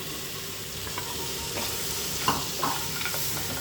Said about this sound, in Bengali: দিয়ে মশলার সঙ্গে ভালো করে এক মিনিটের মতন কষিয়ে নেব